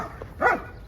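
Dogs give a single short bark in a garden, close and clear, with a softer yip just before it.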